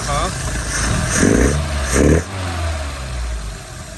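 A Lotus Elan engine idles during carburettor tuning, a steady low rumble with two short blips that rise in speed before dropping back to a lower idle; someone speaks over it.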